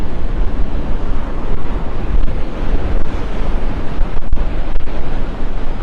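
Ocean surf rolls in on the beach at Delnor-Wiggins in North Naples, a loud, constant wash of breaking waves with wind buffeting the microphone and no one speaking.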